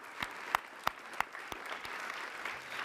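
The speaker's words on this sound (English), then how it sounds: "Let's give a round of applause for our wonderful sponsors." Sparse applause for sponsors at an alumni awards gathering: a handful of distinct, fairly loud claps stand out over a soft patter of clapping at low overall volume.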